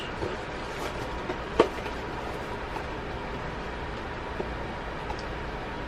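A video game train on Nintendo Switch rumbles in a steady, even wash, with one faint clack near the start. There is no talk over it.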